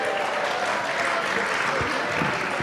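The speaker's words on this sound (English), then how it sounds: "Let's give everybody another round of applause." An audience applauds at the end of a community holiday performance at a Unitarian Universalist fellowship, a steady, dense wash of clapping that fills the room and keeps going the whole time, with no pauses.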